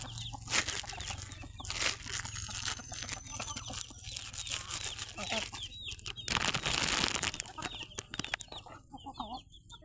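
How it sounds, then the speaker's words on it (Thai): Chickens cluck and call close by as they are fed rice in the early evening in Lampang, Thailand, amid scratching and pecking noises, with a burst of wing flapping partway through and a steady low hum underneath. "ครับวันนี้เอาข้าวไก่ก่อน ไก่กินข้าวกันละไก่กินข้าวกันละ"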